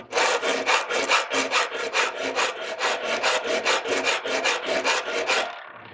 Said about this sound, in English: This is a cut all, and it's like a whole bunch of little droplets of metal on a solid bar.